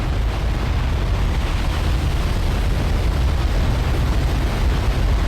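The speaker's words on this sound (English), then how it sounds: "he's bringing up the volume of that looped wave sound." A looped tsunami wave roar from a Roblox game, a dense, continuous rumbling wash that stays loud and steady throughout with no talking.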